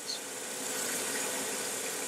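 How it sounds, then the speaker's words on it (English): Orbital sander working on wood during finishing, a steady close whirring hiss with a constant even level, running alone without voices. "That's orbital sanding."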